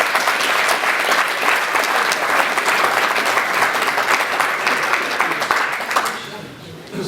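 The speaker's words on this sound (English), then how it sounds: "Round of applause for Sandro." Audience applause for a stage performer at a show, dense sustained clapping from a crowd for several seconds, fading slightly at the end.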